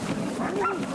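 Sled dogs on an Alaska trip give a short burst of whining, whimpering yelps, close and fairly loud, lasting about a second.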